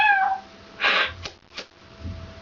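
A girl imitates a cat's meow with her voice, giving one short, fairly faint mew followed by two brief softer squeaks over quiet background.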